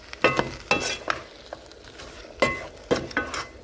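Ogbono soup stirred in a pot, heard as several separate scraping, slushy strokes in an irregular rhythm, close and fairly loud with quiet gaps between them.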